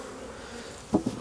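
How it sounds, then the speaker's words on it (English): Honey bees hum steadily around a freshly split hive as the crown board goes on, a close, continuous buzz with a couple of louder passes near the end. "Plenty of bees still"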